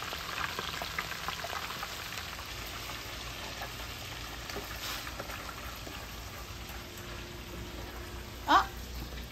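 Coco belly and fish egg frying outdoors in a backyard for a Guyanese salt-and-rice lunch, a low steady crackling sizzle with a faint hiss throughout and one brief louder chirp near the end.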